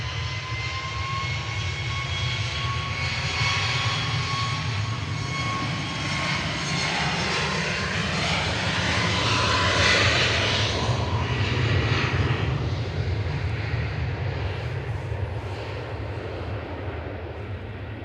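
A jet airliner departs Manchester Airport for Sharm el Sheikh, a loud sustained engine roar with a low rumble that swells and shifts in pitch as it passes, then eases slightly, heard alone.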